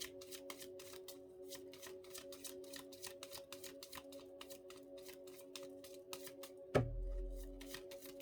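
Tarot cards being shuffled, a steady rapid riffle of papery flicks repeating for several seconds close by, ending in a soft thump as the deck is set down, with a faint low hum underneath.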